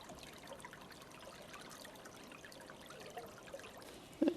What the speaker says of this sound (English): the springs keep flowing into this one little stream,